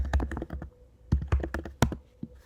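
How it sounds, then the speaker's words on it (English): Close-up typing of an email address on a computer keyboard, quick clusters of sharp key clicks with short pauses between bursts. "you're just going to have to type in your Glenbard email"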